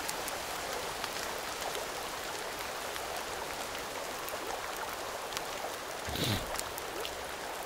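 Rain falls in Sons of the Forest as a dense, even hiss of drops that continues throughout, with a short low thump near the end.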